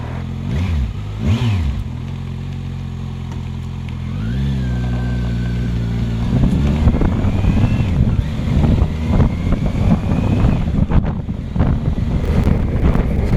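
A 2016 Kawasaki Versys 1000 motorcycle pulling away on a road ride, its engine revving up through rising pitch sweeps and gear changes, then a steady loud drone mixed with wind rush.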